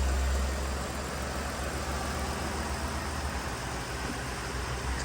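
A 2013 Ford Explorer engine idles smoothly after an ignition coil repair, a steady low hum with faint broadband hiss and no talking.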